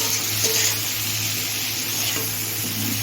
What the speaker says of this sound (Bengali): সাঁতলে নিচ্ছি।